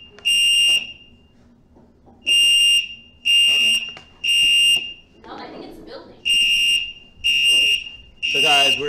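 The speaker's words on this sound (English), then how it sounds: "So guys, we're having a fire alarm." A building fire alarm sounding in loud, regular high-pitched blasts of about half a second to a second each, separated by short gaps, with a voice talking briefly between the blasts.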